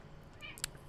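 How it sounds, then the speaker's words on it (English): A house cat gives a single short meow at a distance, faint against a quiet indoor background with a low steady hum. "that was my cat that you might have just heard meow"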